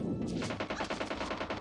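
Rapid automatic gunfire in a battle royale video game, a quick steady burst of repeated shots over about a second and a half, moderately distant and alone.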